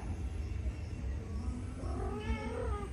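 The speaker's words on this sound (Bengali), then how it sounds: "ওই হুলোটা আসছে" A tomcat gives a faint, drawn-out meow near the end, partly buried under a constant low rumble of background noise.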